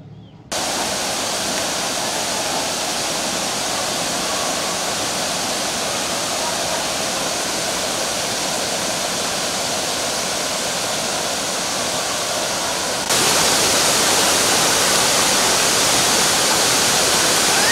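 Lakhaniya Dari waterfall near Chunar and Ahraura in Mirzapur roars as a steady, loud, close wash of rushing water that swells slightly louder toward the end, with no talk.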